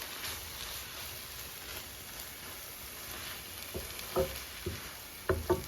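Spices sauté in oil in a pan for a Kerala-style prawns roast, a soft steady sizzle close by, with a few clinks of a spoon stirring toward the end.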